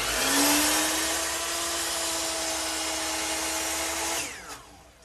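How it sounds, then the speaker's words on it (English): A power miter saw whines loudly at full speed as it cuts through wood molding in a woodworking shop, a sustained high tone that winds down abruptly near the end. "So to cut a piece of molding, I just slide it into place, and I'll make all my miters"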